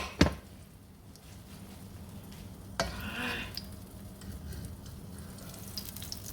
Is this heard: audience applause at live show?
no